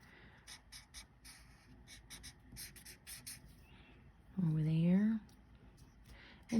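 A pencil shades a drawn letter E on paper in short, quick scratchy strokes that come in bursts, close to the microphone, with a brief spoken voice in the middle.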